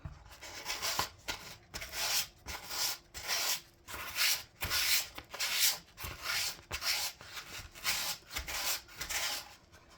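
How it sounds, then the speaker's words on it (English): Sandpaper rubbing along the grain of a slightly rotten wooden heart, a close, steady series of raspy back-and-forth strokes in an even rhythm with short pauses between passes. "Try to sand with the grain whenever I can."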